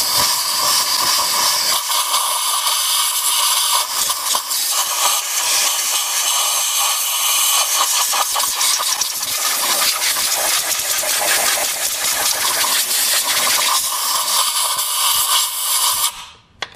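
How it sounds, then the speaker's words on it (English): An air wand blasts compressed air around a spark plug well on a Ford 4.6L or 5.4L 3V engine, a steady loud high hiss that holds for about sixteen seconds, with small rattles and bumps as the wand scrapes, then cuts off. "use your air wand to scrape it while you're blowing"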